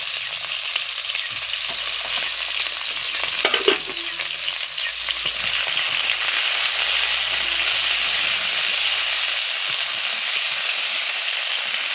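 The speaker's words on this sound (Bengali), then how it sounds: "এবার আলুগুলো ভেজে নেব। আলুগুলো খুব সুন্দর করে ভেজে দেবো, লাল লাল করে।" Potatoes frying in a pan for a cauliflower dish, a loud continuous close sizzle and crackle with a few stirring scrapes, no talking.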